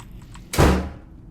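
In a horror video game, a single heavy door bang hits sharply and loudly after a quiet moment, then its boom decays over about half a second.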